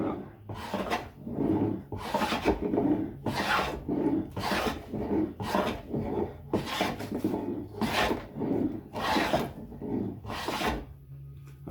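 Wooden hand plane shaving a board in repeated even strokes, roughly one rasping pass per second, close and clear with brief pauses between strokes.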